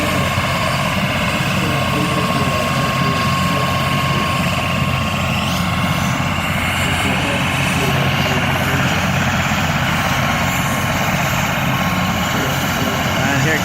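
A helicopter drones loudly and steadily nearby, its rotor thumping beneath a constant engine whine throughout, with voices faintly under the noise.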